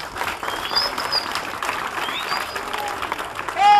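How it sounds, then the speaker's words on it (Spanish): Crowd applause and cheering on an outdoor street at a coastal town show, a steady wash of clapping with scattered whistles and shouts throughout, swelling louder at the very end. "Así que vamos a hacer un aplauso, Cristo"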